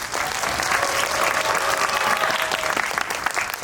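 A film audience at a stage greeting with the actors and director breaks into loud, sustained applause, a thick, even crackle of many hands filling the hall with a few brief voices mixed in.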